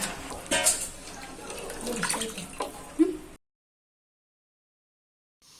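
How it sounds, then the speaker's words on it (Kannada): Water poured onto washed rice for a home biryani, then stirred by hand: a short watery splash and gurgle with light clinks, fairly close, stopping abruptly into silence after about three seconds. "ಹೀಗಿದಕ್ಕೆ ಒಂದು ಸ್ವಲ್ಪ ನೀರನ್ನ ಹಾಕಿ ಚೆನ್ನಾಗಿ ಮಿಕ್ಸ್ ಮಾಡಿಕೊಡ್ತಿದ್ದೀನಿ"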